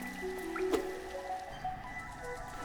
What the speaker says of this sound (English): The sound of falling water.